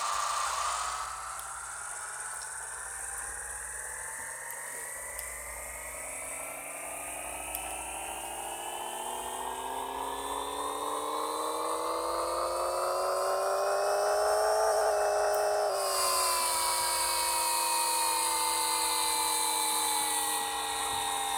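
A V10 engine on a dyno in Pixel Car Racer, a steady whining rev climbing in pitch for about fifteen seconds, then dropping sharply and holding a lower drone, loud and alone.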